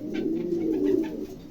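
Pigeons kept in pairs for sale cooing softly and continuously at close range, a low throaty murmur with no talk over it.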